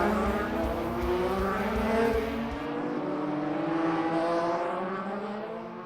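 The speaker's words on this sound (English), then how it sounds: "The Indy cars are loud, man." IndyCar race cars at Phoenix Raceway in a racing video game, a loud sustained engine roar with rising and shifting pitch as several cars run close together, no speech.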